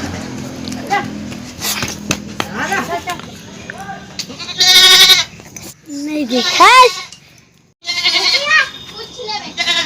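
Goats bleating on a village farm in rural Chhattisgarh, several loud nearby bleats in separate bursts, mixed with children's voices and people talking.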